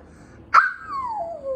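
A person imitates a wolf howl with one short vocal cry that rises sharply and then glides slowly downward in pitch, heard close and fairly loud against a quiet background.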